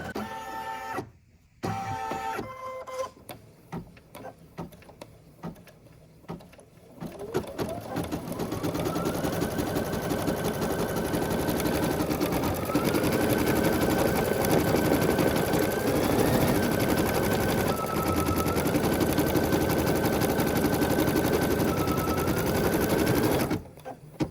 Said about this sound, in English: So all I have to do is pull it up and embroider it.